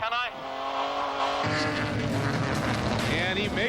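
Race cars at Lime Rock in a 1999 World Challenge event roar by loudly, engines surging as one car passes a Corvette, with a brief tire squeal and possible faint voice under the dense motor noise.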